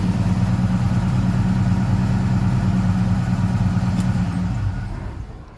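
An LS1 V8 swapped into a 1970 Buick GS, fitted with a Holley Terminator X, idles loud and close with a steady rumbling throb before shutting off and fading out near the end.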